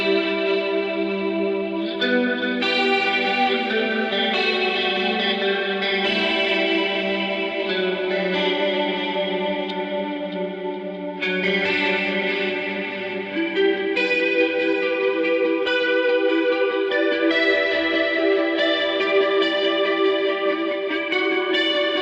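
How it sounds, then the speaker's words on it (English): Synth preset in Logic playing a sequence of sustained, chorus-like notes with delay and reverb added, so each note smears and echoes into the next; loud, continuous and heard without any talk. "Turn on some delay and reverb."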